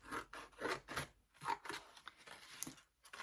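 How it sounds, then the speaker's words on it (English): Scissors snip through paper while a Santa boot shape is cut out for a craft: a quiet, steady series of short rasping cuts in a regular rhythm, with no voices. "Now I'm going to take my scissors."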